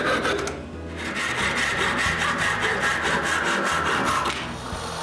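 A saw cutting through the holding tabs of a CNC-carved wooden part, a loud, steady rasping of quick back-and-forth strokes running continuously, with no voices.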